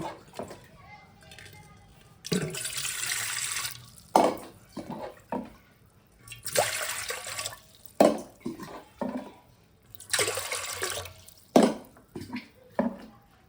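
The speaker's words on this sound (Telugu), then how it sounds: "అదే కప్పుతో 4 కప్పులు వాటర్ యాడ్ చేసుకోండి." Water is poured cup by cup into a pot for sabudana papad, four separate splashing pours close by, each followed by a sharp clink of the cup, with someone talking between the pours.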